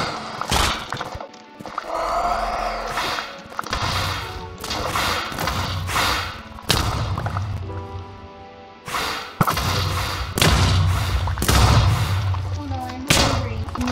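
A Minecraft Wither boss battle in the 1.16 Nether update rages with repeated heavy thuds, whip-like cracks and explosive blasts, loud and close, while players talk over the chaos.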